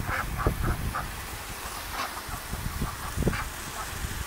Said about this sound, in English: fill up the duck pool for the very excited, very loud ducks